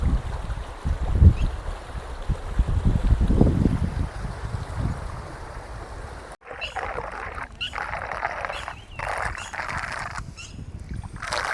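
Narmada water released into a small canal flows past with a broad steady rush, mixed with wind buffeting the microphone outdoors; the sound shifts partway through but stays continuous and moderately loud.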